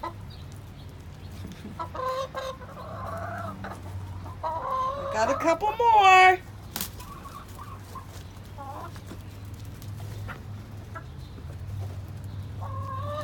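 Backyard chickens cluck and squawk while being fed worms, with intermittent nearby calls building to a loud burst of squawking midway, and a person speaks briefly over them.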